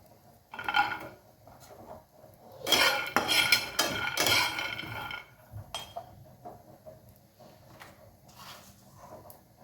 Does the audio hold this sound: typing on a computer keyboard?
no